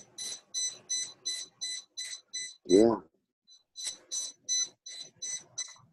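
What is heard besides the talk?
electronic beeping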